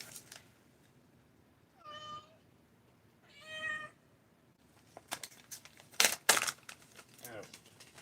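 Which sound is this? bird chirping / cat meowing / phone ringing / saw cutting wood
cat meowing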